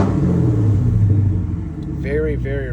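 A Coyote V8-swapped 1973 Ford F100 truck engine idles and rumbles loudly with a low steady drone before a voice starts talking over it.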